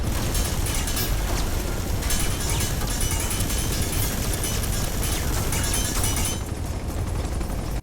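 Continuous heavy gunfire and blasts in the video game Uncharted 2: Among Thieves roar without pause, dense and loud, before cutting off abruptly at the end.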